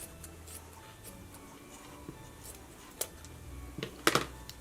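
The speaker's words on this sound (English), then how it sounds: "And then I'll just cut it right here." Scissors snipping material for a Christmas craft, a few quiet crisp snips and small handling clicks up close, with a louder cluster of cuts near the end.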